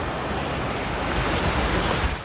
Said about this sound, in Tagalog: Naramdaman din ang malakas na hangin at ulan sa Legazpi